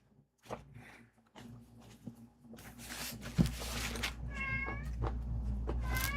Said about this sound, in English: I don't know if you could hear his meow.